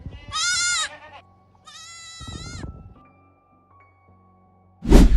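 A white goat bleats in an open field, two long wavering cries close by, separated by a pause, then a short sharp burst of noise at the end.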